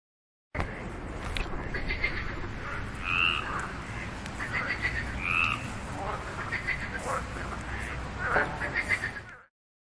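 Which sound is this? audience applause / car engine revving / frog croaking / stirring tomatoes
frog croaking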